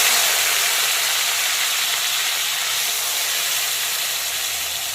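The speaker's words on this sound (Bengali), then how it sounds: "তো এখন ম্যারিনেটেড চিংড়িগুলোকেও তেলের মধ্যে দিয়ে দিই।" Marinated prawns dropped into hot oil for a mixed fried rice, giving a steady, loud broadband sizzle and hiss that holds evenly for the whole stretch with no talking.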